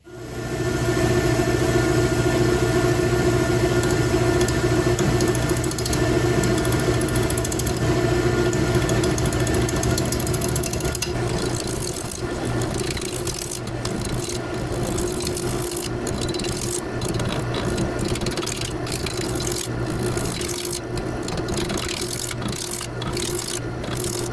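A woodturning lathe cuts a wooden birdhouse blank flat: a steady whirring drone with rubbing, scraping tool contact that grows rougher and more broken partway through, close and loud with no talk.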